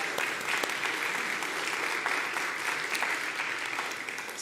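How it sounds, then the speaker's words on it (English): Applause at a Sunday morning church celebration service fills the room with steady, dense clapping from a crowd that continues evenly for a few seconds. "I think another round of applause."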